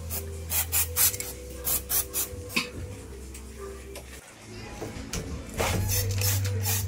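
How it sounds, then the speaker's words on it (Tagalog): CVT cleaner is sprayed in short repeated hissing bursts onto a motorcycle magneto stator, about a dozen spurts over a low motor hum, with a brief pause and a louder hiss near the end. "spray lang natin itong CVT cleaner para malinis"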